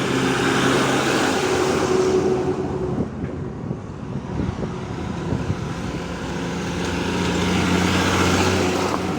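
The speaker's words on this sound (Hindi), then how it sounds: "एक, रुकेगा जरा, गाड़ी आ रही है।" A vehicle drives along a road beside the Yamuna river in Delhi, a broad steady engine and tyre rumble that swells and recedes over several seconds, with wind buffeting the microphone throughout.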